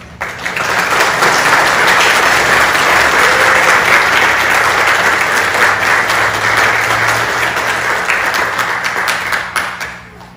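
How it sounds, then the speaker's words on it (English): A church congregation at Trinity Sunday worship claps for children, giving loud, dense, sustained applause that builds quickly and tapers off after about ten seconds. "give them a round of applause"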